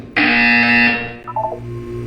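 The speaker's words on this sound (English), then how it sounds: "You will hear a buzzer." A loud, harsh electronic buzzer from the video game Portal 2 sounds once and sustains for about a second before cutting off, followed by a few brief beeping tones.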